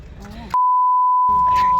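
A steady electronic beep tone sounds loud and unbroken for over a second, with voices and background noise before and after it.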